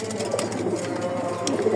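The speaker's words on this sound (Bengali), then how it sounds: "দেখেন এই যে একটা নর কবুতর" Male racing pigeons, Chinese nasal tuft birds on a loft farm, coo softly and continuously nearby, with low murmuring calls over a steady background.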